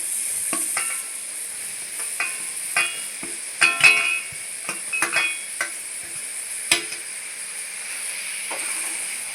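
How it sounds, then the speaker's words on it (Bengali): Fried papaya being stirred in a pan for sweet papaya nadu, a soft sizzle under repeated scraping and clinking spoon strokes that come in irregular bursts. "দেওয়ার সঙ্গে সঙ্গে এইভাবে নাড়তে হবে"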